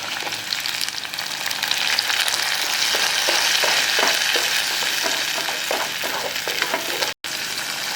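Steady, loud sizzling of ground curry leaf paste frying in a hot pan, with occasional stirring scrapes running through the whole stretch.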